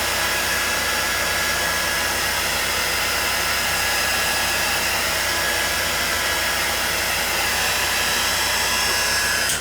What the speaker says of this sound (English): I know this is not much fun to watch somebody dry stuff, and it's probably really loud